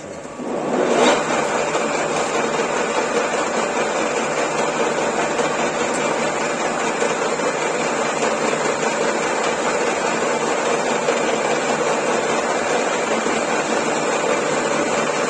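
A metal lathe turns a workpiece with a Chinese carbide insert, giving a loud, steady machine whir and cutting hiss that runs unbroken from start to finish, with no one speaking.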